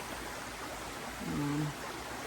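A creek flows steadily on a hot day, a soft continuous rush of water like faint broadband hiss, with a brief low murmur rising briefly in the middle.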